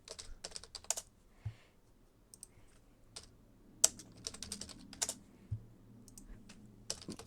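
A computer keyboard clatters as a chat message is typed during a Roblox Tower of Hell game. Bursts of quick, close keystrokes come in clusters separated by short pauses, with no talking.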